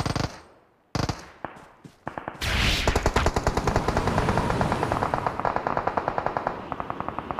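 DP machine gun firing in PUBG Mobile: a few isolated loud shots, then a long sustained rapid-fire burst of sharp, evenly spaced reports, close and loud, with no talking.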